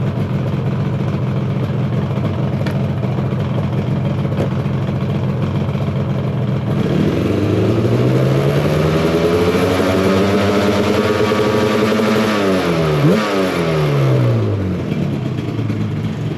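A Yamaha RD350LC hybrid motorcycle engine idles at first, then revs up and down through several swelling sweeps before dropping back, loud and close.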